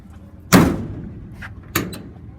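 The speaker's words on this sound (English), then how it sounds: "All the doors open and close." Doors on a 2002 Dodge Ram 3500 utility truck with a utility bed shut twice outdoors, a loud close solid slam followed a second later by a lighter thud.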